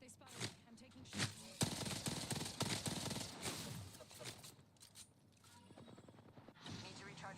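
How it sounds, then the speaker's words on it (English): Gunfire in the Apex Legends shooter game, bursts of rapid shots and clattering impacts close by, fading to scattered sounds near the end, with a player talking over the action. "They spotted me. I'm taking shots."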